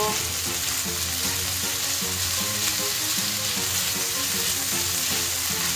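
Pork stir-frying with broccoli and bell pepper in a hot pan: a loud, steady, close sizzle that holds without a break, with faint stirring underneath.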